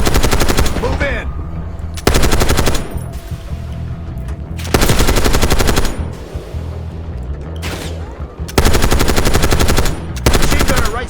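Loud bursts of automatic machine gun fire in the Call of Duty Black Ops 6 video game, several long sustained volleys separated by short pauses, with some voice under the shooting.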